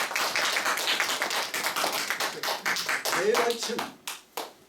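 A church congregation claps for a deacon being honored, with a scattered burst of hand claps under continuing speech that trails off into a few separate claps near the end.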